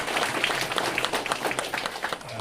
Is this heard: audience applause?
yes